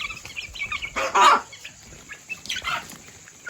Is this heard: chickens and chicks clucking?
yes